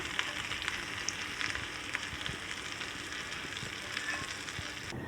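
A hot tempering of garlic and cumin hits gourd raita with a steady, crackling sizzle, close and continuous, fine popping bursts scattered through it and no voices.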